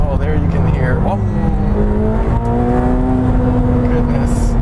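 A McLaren 720S sports car engine drones loud and steady while driving, a sustained rising and falling tone, with someone talking over it.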